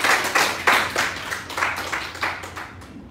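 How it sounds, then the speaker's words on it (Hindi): Hands clap in a small acting-class group, a sequence of roughly eight loud, regular bursts close by that thin out toward the end. "वेरी गुड, जोरदार तालियां"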